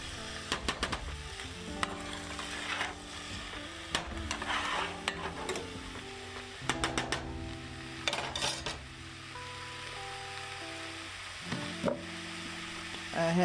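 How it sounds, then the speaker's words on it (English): Vegetables seasoned with salt and pepper sizzle steadily as they are sautéed in a hot pan, with a spoon or spatula scraping and clinking against the metal as they are stirred. "I had that sizzling for a little bit and sauteing"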